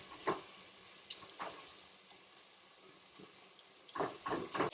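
Onions lightly sautéing in a pan for a fish recipe, a soft, quiet sizzle with a few louder crackling bursts and stirring scrapes, close by and without talk.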